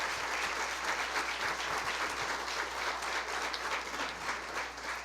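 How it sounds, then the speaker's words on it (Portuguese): A church congregation applauds steadily at a pastoral transition service, a dense wash of many hands clapping at even level throughout, fairly distant and soft, with no voices standing out. "Vamos aplaudir o Senhor por essa noite tão abençoada."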